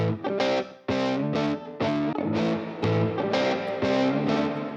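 Distorted electric guitar chords strummed in a rhythmic pattern, washed in a bright plate reverb tail, panned left, that lingers between hits. Loud and continuous, no voices.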